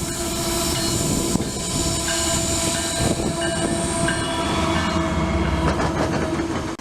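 A Norfolk Southern manifest freight train led by GEVO locomotives with an SD60i rumbles past close by, a loud continuous roar of engines and rolling cars with rail clatter and a brief horn-like tone.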